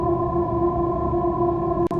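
An airy synth pad played dry, with no effects, holding one steady, bright sustained chord throughout, loud and alone.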